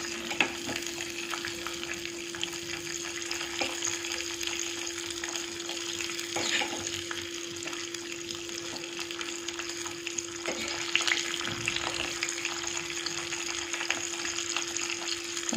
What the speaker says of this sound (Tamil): இது நல்லா ஃப்ரை ஆகட்டும் நெய்ல